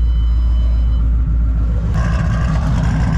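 A Ford Mustang 3V V8 fitted with stage 2 Comp cams and a supercharger idles outside, a steady deep rumble with a loping throb, a little more rasp and whine joining after about two seconds.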